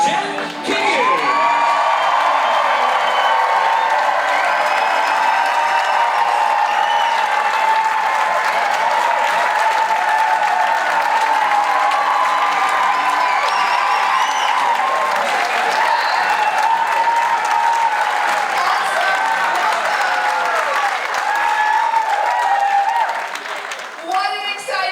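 A large crowd at an election eve rally in Virginia Beach claps and cheers loudly and continuously, with whoops and shouts rising throughout and a voice coming through near the end.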